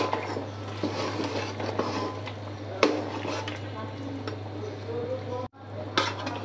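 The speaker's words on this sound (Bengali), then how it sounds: "মাংসটা আমি একটু নেড়ে দিচ্ছি।" Meat cooking for haleem is stirred in a pot, with soft scraping and a few sharp metallic clinks over a steady low hum, and a faint voice in the background.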